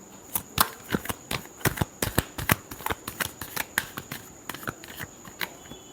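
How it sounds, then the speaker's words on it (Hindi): Tarot cards are shuffled by hand in a rapid string of crisp, close riffling snaps with brief pauses, quiet and without talk. "last shuffle"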